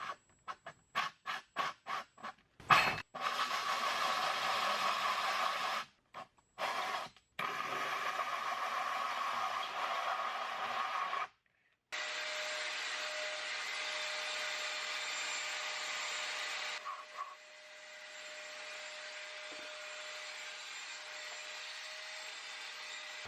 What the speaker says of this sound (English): Kind of a scary proposition, drilling a hole through the side of your RV.